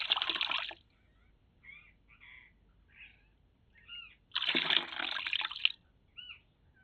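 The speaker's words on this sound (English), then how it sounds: "Submerging the sponge in one, filling it with water, the artist then squeezes it out again, expelling the water in the other bucket." Water wrung from a small sponge pours into a bucket in two bright splashing bursts, separated by soft drips and quiet trickles in a still indoor space.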